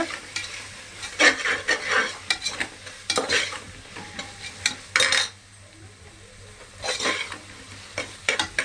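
Hand-pounded ginger garlic paste sautéing in a pan, bursts of sizzle and scraping spoon strokes against the pan in irregular stirring clusters, with quieter gaps of low frying between.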